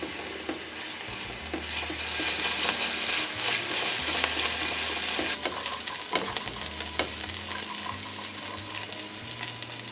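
Garlic clove and anchovy fillets sizzling steadily in olive oil in a pan, with stirring scrapes and shifting bursts of frying, no voices.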